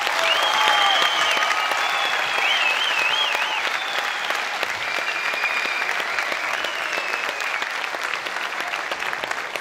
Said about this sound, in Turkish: çocuklarımız ve orkestralarımız için bir alkış daha.